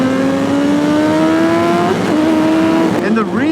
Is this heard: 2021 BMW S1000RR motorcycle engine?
yes